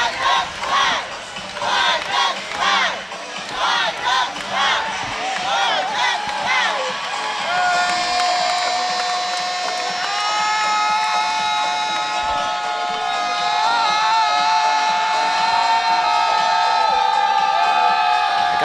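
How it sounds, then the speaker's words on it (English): A rowdy crowd at a cheerleading national championship semi-final yells and whoops in rhythmic bursts, then settles into a sustained loud roar of cheering and shouting. "one great crowd for this side, as they have been in it since the jump"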